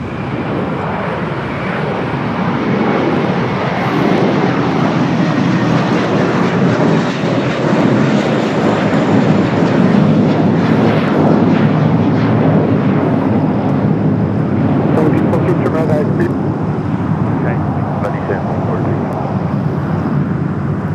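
Jet airliner in Allegheny retro livery at LAX, a loud, sustained engine roar that swells through the middle and holds steady for the whole stretch, with faint voices underneath.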